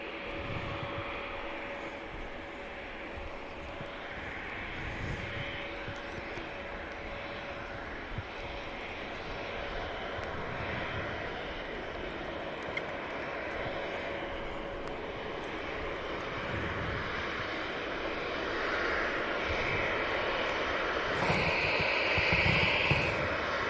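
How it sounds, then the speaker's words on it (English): A TUI airliner bound for Melbourne pushes back from the gate at Manchester Airport, with a steady distant jet-engine whine and hum that swells slightly toward the end, no speech. "Tui to Melbourne. Let's have a look, mate. In fact, it's just pushing back"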